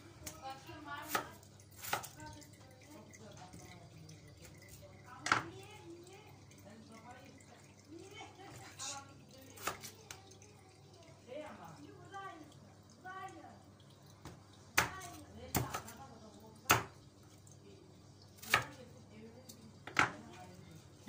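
Repeated sharp knife strikes on a cutting board while vegetables are chopped in a home kitchen, irregular taps standing out under nearby conversation between two people.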